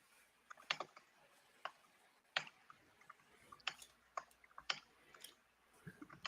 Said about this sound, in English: he's typing some words in a script editor